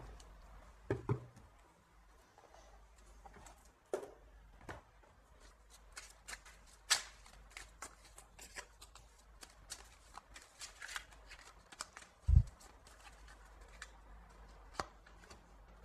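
A deck of oracle cards is shuffled quietly and sporadically, with faint papery rustles and occasional soft slaps spread over a hushed background.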